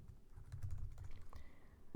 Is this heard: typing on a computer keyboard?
yes